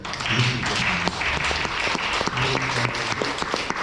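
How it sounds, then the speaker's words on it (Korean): A lecture audience at a sustainable development and climate change talk in Pyeongtaek applauds with dense, sustained clapping for a few seconds, a few voices faintly audible beneath it. "박수 한번 드릴 수 있겠습니다"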